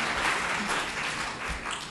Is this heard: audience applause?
yes